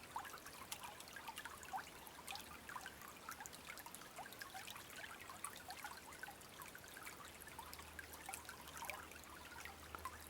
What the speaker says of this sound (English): Just the sound of that water.